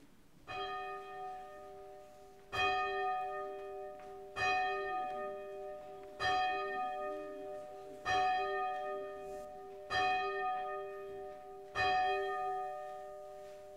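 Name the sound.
church bells rung before a worship service hymn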